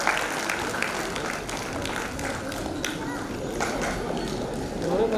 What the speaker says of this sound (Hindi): प्लीज बच्चों का उत्साह बढ़ाने के लिए जोरदार तालियां बजाते हैं